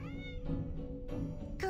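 A cactus cat in the video game Reverse: 1999 meows several times in quick succession, loud and close, with game music underneath.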